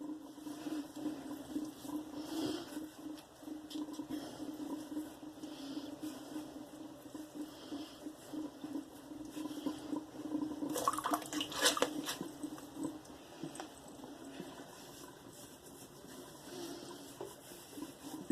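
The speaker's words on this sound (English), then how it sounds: "Let that water out of the sink." Soapy shaving water drains out of a bathroom sink with a continuous low gurgle and trickle, near and fairly quiet, with a louder sloshing swirl midway through.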